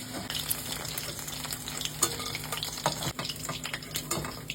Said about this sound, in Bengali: তো এই দেখো জাস্ট এরকম হালকা হালকা পনির গুলোকে ভাজতে হবে লাল লাল হয়ে গেলে তুলে নিতে হবে